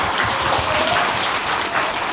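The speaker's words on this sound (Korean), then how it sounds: "박수 주세요." An audience at the 2017 Newstown Awards ceremony in a Gangnam event venue applauds steadily, a dense unbroken wash of clapping from many hands that holds at an even level throughout.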